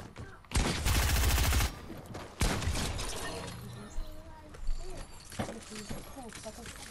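Rapid burst of video game gunfire, loud and close, firing in a quick rattling run for about a second, then a second sharp blast, followed by scattered pops and clatter while players talk over the action.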